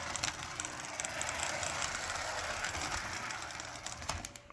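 A 671R model train locomotive runs steadily on its track, a continuous whirring, clattering mechanical drone with small ratcheting clicks, close by and fairly quiet, with faint talk in the background.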